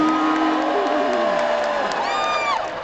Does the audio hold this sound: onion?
no